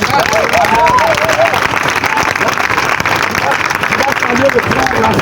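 A church congregation at a crusade in Cotonou applauding and acclaiming Jesus, a loud, continuous wash of clapping mixed with cheering voices and shouted praise that fills the whole stretch.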